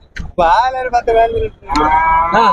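A Holstein Friesian dairy cow at a cattle market lows loudly and close by, several drawn-out moos in quick succession with brief gaps between them.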